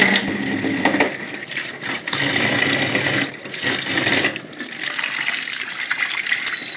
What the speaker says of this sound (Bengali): এরকম একটা ফুটো থালার ভেতরে ভালো করে আলুটা ধুয়ে নিতে হবে